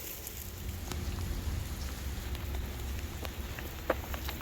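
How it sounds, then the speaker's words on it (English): Rain falls at night during a walk outdoors, a steady soft patter and hiss with scattered individual drops ticking close by and one sharper tap near the end, no voices. "It's raining and it's dark."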